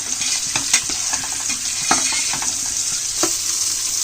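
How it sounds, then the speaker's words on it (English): Eggs marinated in chili powder, turmeric and coriander powder sizzle steadily in a hot pan for an egg biryani, with loud continuous frying hiss and a few scraping stirs of a utensil against the pan. "After adding the egg and sauteing it for some time, you'll have to add the onions and fry it for about 2-3 minutes until it turns brown"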